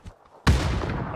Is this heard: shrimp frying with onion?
no